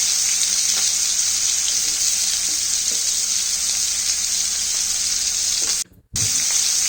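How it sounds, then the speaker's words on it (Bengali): Masala-coated hilsa tail and pointed gourd frying in mustard oil in a wok, making a steady, bright sizzle that carries on evenly apart from a brief silent gap near the end. "তেল গরম হলে এর মধ্যে দিব মশলা মেখে রাখা সবগুলো উপকরণ।"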